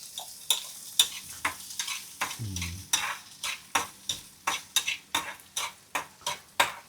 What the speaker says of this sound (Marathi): कांदा परतत आलाय